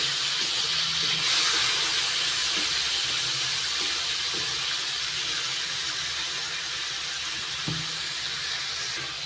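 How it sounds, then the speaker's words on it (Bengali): Prawns fry lightly in a pan with a steady, even sizzling hiss that holds throughout, broken by a few faint clinks and no talk. "এদিকে চিংড়ি মাছগুলো ভাজা হতে থাক"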